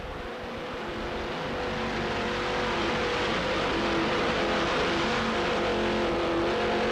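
Twin engines of Heavy Metal, a brand-new 42-foot offshore racing powerboat in the open class, roar steadily at high power as a loud, sustained drone, close and continuous without talk.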